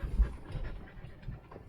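Dogs pant in quick, close, rhythmic breaths while meeting new dogs, the huffing steady and fairly loud through the short stretch.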